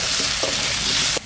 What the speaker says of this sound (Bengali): কচুটা ভালো করে কষায় নিতে হবে